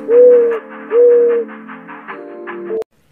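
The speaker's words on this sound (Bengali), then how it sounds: "ঘয় ঘুঘু পাখি ডাকছে গাছে।" Soft, repeated cooing of a dove in a tree, two longer hooting notes followed by lower murmuring coos, fairly close and alone before cutting off.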